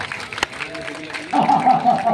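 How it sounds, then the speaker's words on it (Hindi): Clapping and brief chuckles rise from the crowd at a Holi kavi sammelan poetry gathering in Varanasi, a short burst of applause heard under and after a voice. "एक बार जोरदार तालियां बजाइए"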